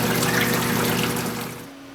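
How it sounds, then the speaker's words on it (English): Water rushes steadily through a commercial frozen yogurt machine as old product is flushed out, a loud, even gushing with a low hum beneath it that fades slightly toward the end. "I'm still flushing the old product out, but I wanted to come back quickly before we do the sanitizing"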